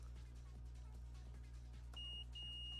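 After a stretch of low hum and faint handling clicks, a multimeter's continuity tone sounds twice, short then sustained, while arcade power supply wiring is being tested.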